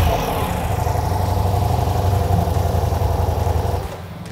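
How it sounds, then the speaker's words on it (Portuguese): A Ducati Diavel V4S motorcycle engine idles close by with a steady, low, throbbing rumble, holding even for about four seconds before dropping off sharply near the end. "Vou ligar aqui só pra galera curtir o som de novo."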